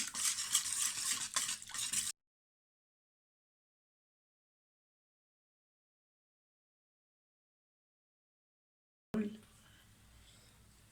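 Liquids being stirred in a bowl for cinnamon sugar cookie dough make a steady, close swishing that lasts about two seconds, then stops into silence before a faint stir returns at the end.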